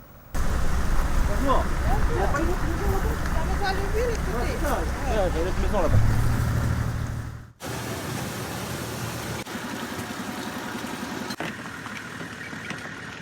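A fire truck engine runs steadily while refilling a 4x4's water tank during a firefighting operation in Ponérihouen, with a continuous loud mechanical hum and rush of flow, briefly cutting out before resuming, and voices talking over it.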